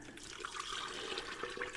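Water pours steadily onto gold pay dirt to wet it, a continuous close splashing wash for under two seconds.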